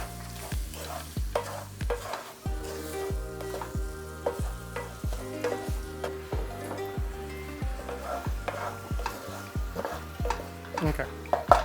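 Apples and brown sugar cooking in a pan, with a soft sizzle under repeated scraping and stirring strokes from a utensil against the pan in a steady rhythm, close and moderately quiet.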